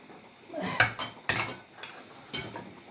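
A tagine cooking pot is picked up in a kitchen while fish and vegetables are being prepared, giving a few soft ceramic knocks and clinks spread across a few seconds, close and moderately quiet.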